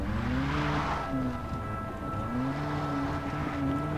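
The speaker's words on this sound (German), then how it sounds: "Ich nehme das Auto und fahre den um." Engine of a car driven in Far Cry 3, a steady droning hum with rising and falling pitch as it revs, continuous and fairly close throughout.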